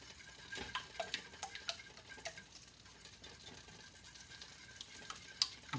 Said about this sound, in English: let's give the sauce a little bit of a stir